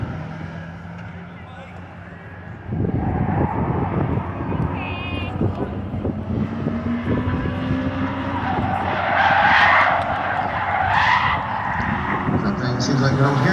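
Front-wheel-drive race car on a qualifying lap at the Indianapolis Speedrome, its engine note rising and droning close by, with tire squeal and a commentator talking over it.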